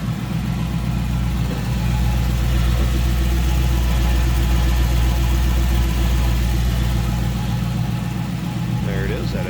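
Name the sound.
LS1 engine idling in 1959 Cadillac DeVille custom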